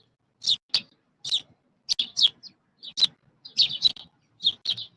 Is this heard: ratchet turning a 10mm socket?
no